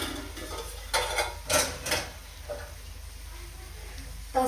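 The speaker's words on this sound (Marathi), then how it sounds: "आता आपल्या ह्याला ना झाकण घालून ठेवायचं आहे" A lid is set over spicy veg bread topped with onion and tomato on a tawa, giving a few light metallic clanks and taps over a faint background sizzle.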